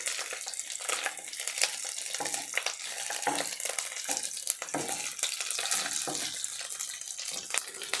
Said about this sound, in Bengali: মাছগুলো আমি খুব ভালো করে ভেজে নিব।